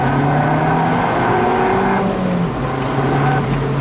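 An Abarth 695 Rivale engine revs up through the low range with a raspy, burbling exhaust, loud and close, climbing in pitch and then easing off, with no talk over it.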